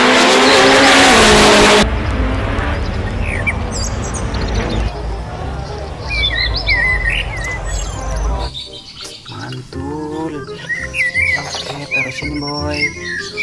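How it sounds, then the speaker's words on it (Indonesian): A loud modified racing motorcycle engine roars and revs at close range, with tire squeals and skidding, then fades while birds chirp in the background. "Wow, ternyata ini motor balap"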